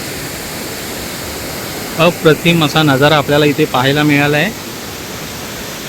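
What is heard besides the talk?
Dhutpapeshwar waterfall roaring beside the temple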